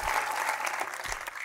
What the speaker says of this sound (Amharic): አጨብጭቡ ለሰራዊት